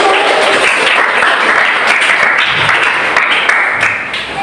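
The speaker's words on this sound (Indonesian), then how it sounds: "Sekarang beri tepuk tangan." Applause in a classroom during an Arabic language lesson, a dense burst of clapping from students that holds steady for several seconds and tapers slightly at the end.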